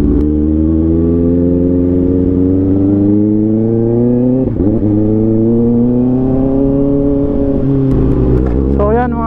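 A Kawasaki ZX6R sports bike engine pulls away loud and close, its revs climbing steadily through the gears, with a brief dip between shifts and a rising whine near the end.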